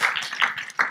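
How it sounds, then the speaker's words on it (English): Scattered claps from a conference audience, a few uneven hits spread over about a second, moderately close and with no talking over them. "Just a round of applause for y'all."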